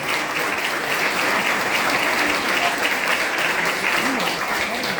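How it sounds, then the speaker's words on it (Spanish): A dense, steady crowd applauds author Gustavo Silvestre at a book presentation for 'Pepe Mujica. Ligero de equipaje' at the Casa de la Provincia. The loud, even clapping fills the whole stretch without a break. "un aplauso para él"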